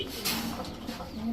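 A Naptha pigeon at a pigeon market gives a soft, low cooing call, close and brief, with a faint chicken-like cluck and background murmur around it.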